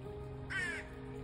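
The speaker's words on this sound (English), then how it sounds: "That's my crow." A crow gives a single harsh caw, loud and close, during an August hand-feeding session with a family of crows and swans, standing out over a low steady background hum.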